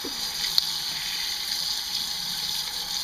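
Running water rinses out a cleaned squid tube, a steady close hiss of flowing water with one brief click partway through and no talk.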